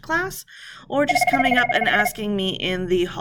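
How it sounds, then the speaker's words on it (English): A telephone rings in a classroom, a bright repeating electronic ring heard under a teacher speaking continuously over it. "Sorry about the phone ringing."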